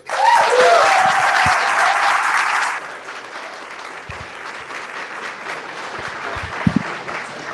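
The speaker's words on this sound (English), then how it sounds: "Give him a round of applause." An audience at a book event gives author Peter Beinart a round of applause, loud, dense clapping for nearly three seconds that fades to scattered, quieter claps and room noise.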